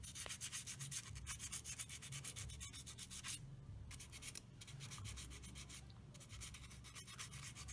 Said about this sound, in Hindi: ये 3 क्लच शूज़ हम क्लीन करेंगे सैंड पेपर से। धीरे धीरे क्लच शूज़ को रब करके